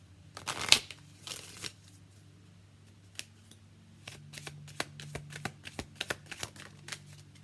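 Tarot cards being shuffled by hand: a loud riffle burst at the start, then a run of light, irregular card flicks and taps, close up over a low steady hum.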